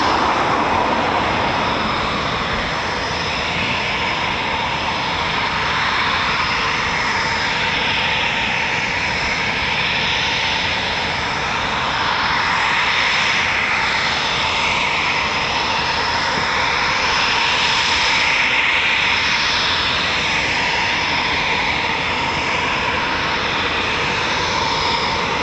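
Eurofighter Typhoon FGR4 jet engines roar steadily at RAF Coningsby, a loud sustained broadband rush that swells and eases slightly over the whole stretch with no voices.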